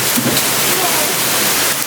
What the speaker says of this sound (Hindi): पानी आ रहा है, इतना प्यारा मौसम है कि पूछिए मत।